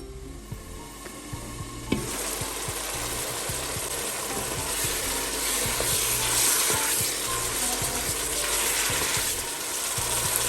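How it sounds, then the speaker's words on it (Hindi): Tomatoes cooking under a lid in a pan for chicken macaroni make a steady, close sizzle that starts after a small clatter and holds a busy, even frying hiss to the end, with no talking. "दो 3 मिनट कवर करके पकाएंगे ताकि टमाटर गल जाए।"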